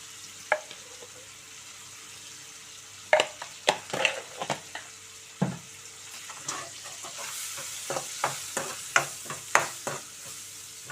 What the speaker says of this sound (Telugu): కొద్దిగా ఉల్లిపాయ ముక్కలు మెత్తపడేదాకా మనం నూనెలో వేయించుకోవాలండి.